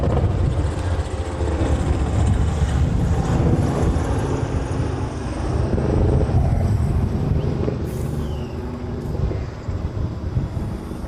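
Boeing 747 airliner on the runway at a Hawaii airport bound for Hong Kong, a loud, steady jet roar with wind buffeting the microphone, sustained throughout without pause.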